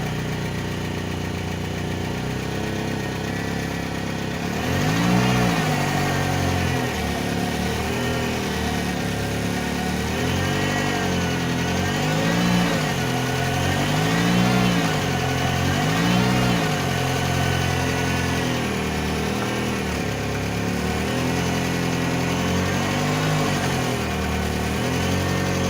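A car with a failing CV joint turns slowly while its engine hums steadily at low revs. Rhythmic rising and falling tones come through the engine drone, and faint repeated knocking pulses can be heard nearby, with no talking.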